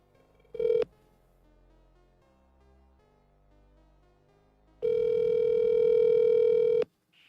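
An outgoing phone call: a short dial blip, a quiet pause, then one long, loud, steady ringback tone lasting about two seconds before it cuts off.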